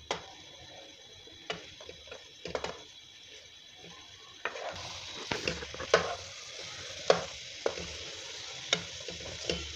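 Boiled cauliflower and potatoes fry in a pan for aloo gobi, giving a steady close sizzle. Sharp clicks and scrapes of stirring come at irregular intervals.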